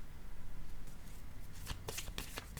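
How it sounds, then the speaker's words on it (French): A tarot card set face down on a table during a reading: soft papery rustling and a few light taps toward the end over a steady background hiss. "Je vais juste déposer une carte sur le jugement ici, à l'envers."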